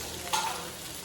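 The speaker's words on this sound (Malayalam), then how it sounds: "മീൻ പൊരിക്കാൻ വെച്ചിട്ടുണ്ട്." Kingfish frying in a pan in a home kitchen, a steady soft sizzle and crackle of hot oil, low and continuous with a slightly louder burst near the middle.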